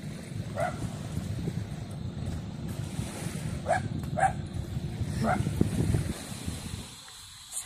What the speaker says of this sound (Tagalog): Daming aso.